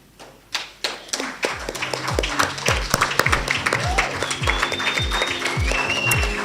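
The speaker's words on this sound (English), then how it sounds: "give you another round of applause" A round of applause greets participants standing up at a university hackathon prize-giving ceremony in Tshwane. Individual claps and thumps near the microphone build into a fuller, sustained clapping, with faint background sounds and some voices mixed in.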